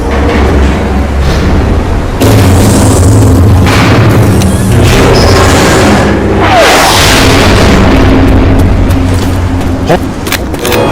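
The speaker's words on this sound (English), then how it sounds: "the seizing malfunction and resulting loud bang make it clear that the players have attracted every" In Left 4 Dead, a bridge mechanism seizes with a loud booming bang inside a dense, roaring wall of sound that stays heavy for the whole stretch.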